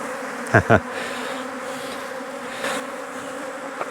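Defensive honey bees swarm around an opened top bar hive, a dense, continuous buzzing close by, with a few sharp louder passes as bees zip near the microphone.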